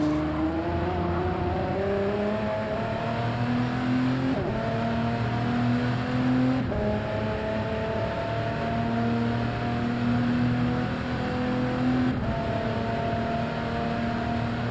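Two race cars run side by side on an oval in a touring car championship, their engines droning loudly and steadily with shifting pitch, rising and falling through gear changes without a break.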